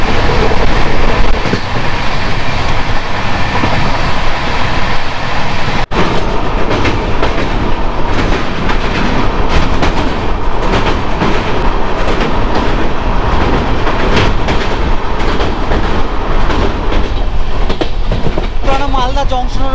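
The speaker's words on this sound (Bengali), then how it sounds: "110-11 স্পিডে ট্রেন হচ্ছে ছুটে চলেছে ঝড়ের গতিতে।" Sealdah–Balurghat express racing at about 110 km/h after Malda Town, a loud, continuous roar of wheels and coach rattle with rhythmic clickety-clack heard close from inside the train.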